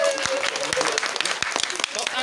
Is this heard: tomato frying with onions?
no